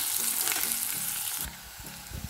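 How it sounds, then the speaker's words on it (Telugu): Onions frying in a pan give a steady close sizzle with bright crackle and a few soft stirring scrapes, the hiss easing slightly toward the end. "ఇలా కొంచెం ఆనియన్స్ ఫ్రై అయ్యాక ఒక త్రీ మినిట్స్ ఉంచుతాను ఇప్పుడు నేను"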